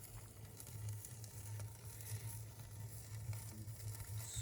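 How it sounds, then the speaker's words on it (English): Meat searing on a grill at about 600 degrees, giving a steady close sizzle with crackling and popping throughout, with no talk over it. "I'm gonna sear those on each side and they'll be done"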